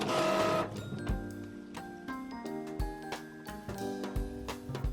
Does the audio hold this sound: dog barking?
no